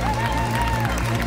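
Applause at the finish line of a half-marathon under the Grande Arche, with crowd clapping blended with a loud public-address announcer's voice and a sustained musical tone over a low rumble.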